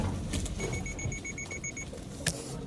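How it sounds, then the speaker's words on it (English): Subaru Outback XT Onyx Edition's EyeSight system sounds a warning chime while off-road in X-Mode, reacting to weeds ahead: a rapid run of about eight short, thin electronic beeps over low cabin and road noise. "What you heard there was the eyesight system recognizing these weeds."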